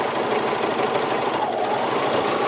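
A serger overlocks the seam of a classic t-shirt on default settings, a steady, fast mechanical whir running continuously at close range with no talk.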